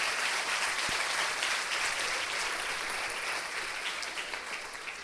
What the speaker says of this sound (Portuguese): Então vamos todos aplaudir ao Senhor Jesus.